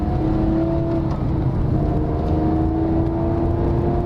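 A Porsche 911 engine drones steadily with a sustained whirring hum, holding an even, continuous note as it accelerates uphill on a country road.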